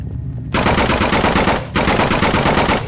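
Rapid automatic gunfire cuts down zombies in the horror video game Nightmare House 2: two long, loud bursts of fast, evenly spaced shots with a brief pause between them, no talking.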